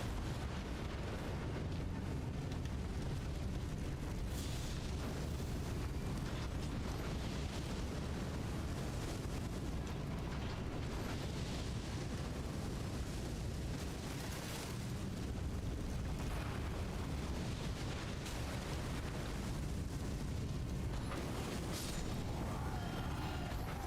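Cannon fire in Elden Ring Reforged, where a triple-cannon emplacement lays down a dense, rumbling barrage of booms and bursts that keeps going without a break, heavy and loud at the low end with no talking.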